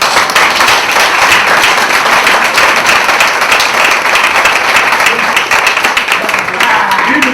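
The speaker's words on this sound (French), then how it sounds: "On l'applaudit." Guests at an official wedding ceremony applauding the bride, loud continuous clapping from a close crowd that stays steady throughout, with a faint murmur of voices mixed in.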